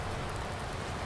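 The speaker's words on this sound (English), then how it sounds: "because it's raining" Rain pouring down in Farming Simulator 19, a constant soft patter and hiss with no breaks, quiet and uniform throughout.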